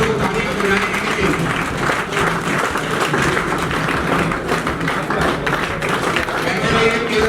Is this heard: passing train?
no